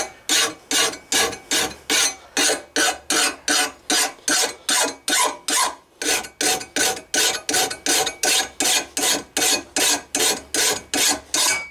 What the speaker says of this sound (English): with the grinder you just kind of rough the blade down somewhat sharp